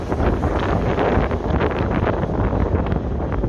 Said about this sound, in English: This bus might make some lots of noise.